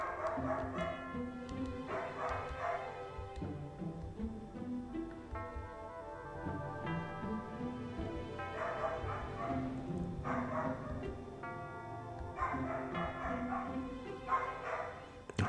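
A dog outdoors barks and yips off and on under steady game music, the barks fairly faint and set back from the foreground, with a voice talking over parts of it.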